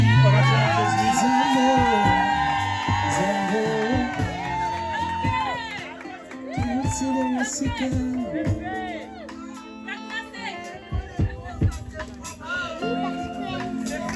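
A wedding congregation at a nuptial blessing cheers, whoops and shouts in acclamation, a loud crowd surge that thins into scattered voices and babble with a singing or musical tone early on.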